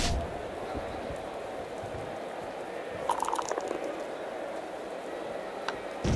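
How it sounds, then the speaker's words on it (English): Heavy rain in a fantasy football video game, a steady broadband hiss of rainfall held at an even level throughout, with brief brighter patter near the middle. "Yep, looks like we got some heavy rain coming in, Jim."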